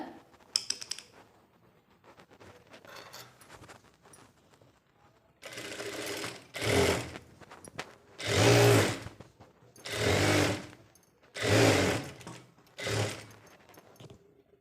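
A sewing machine runs a long, loose removable stitch through nightie fabric in several bursts of close, steady whirring, separated by brief pauses, after a few quiet handling sounds.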